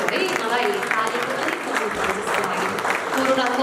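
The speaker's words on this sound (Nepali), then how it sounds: "ताली अलि पुगेन जस्तो लाग्यो है मलाई, तालीको" Loud, steady audience applause at a construction businesses association's annual general meeting in Bharatpur, Chitwan, many hands clapping continuously while a voice speaks over it.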